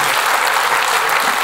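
A crowd at an Armenian stand-up comedy show claps steadily, a dense, loud wall of applause with no pauses.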